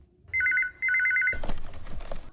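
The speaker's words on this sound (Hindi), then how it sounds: "फोन क्यों नहीं उठा रहा कोई?" A telephone rings unanswered with two loud electronic bell bursts, after which indoor rustling and movement noises follow.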